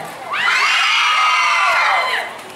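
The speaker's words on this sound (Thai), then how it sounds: "อยากฟังกรี๊ดนานๆหนึ่งทีฮะ" A large crowd at an outdoor concert show in Krabi, Thailand, erupts in loud, sustained high-pitched screaming and cheering that swells quickly, holds for about two seconds, then fades.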